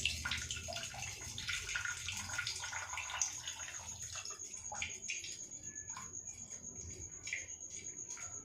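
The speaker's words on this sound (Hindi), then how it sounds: "अभी इसमें से हम पूरा पानी निचोड़ देंगे, ढक्कन लगा के उल्टा करके पूरा पानी निकाल देंगे।" Water splashes and trickles as it drains out of a covered pot of soaked mung beans turned upside down, an uneven, close pouring sound over a quiet background with faint insect chirps.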